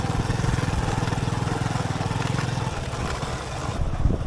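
A motorbike runs along a dusty village dirt track on Char Kukri Mukri island in Bhola, its engine droning steadily and closely before easing slightly toward the end.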